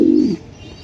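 A single short, low coo from a racing pigeon, loud and close, cut off after a fraction of a second into quiet room hiss.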